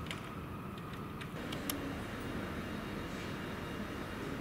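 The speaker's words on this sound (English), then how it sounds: "Aircraft," An aircraft passes overhead outdoors as a steady, broad engine roar that holds level throughout, with a few faint ticks near the start and no talk.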